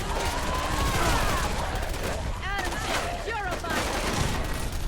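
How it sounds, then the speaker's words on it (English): Dense, continuous gunfire from radioactive guns rattles through a fight with ghouls in Fallout 4, with overlapping shots, chaotic combat noise and voices mixed in. "These idiots are shooting ghouls with radioactive guns"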